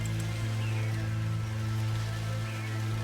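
Rain falling in the game Her Love, Like Poison, a steady wash of drops under a low constant hum, even and unbroken throughout, with no voices.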